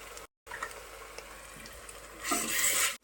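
Ginger garlic paste sizzles and fries in a pan for mutton curry, with soft scraping as it is stirred, swelling into a louder, hissing fry near the end after a brief gap.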